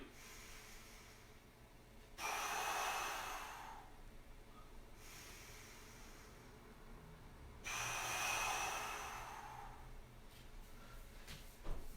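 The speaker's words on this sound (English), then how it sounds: "breathe in, exhale" Deep breathing during an exercise workout: two long, breathy exhales several seconds apart, close and soft, separated by quiet pauses.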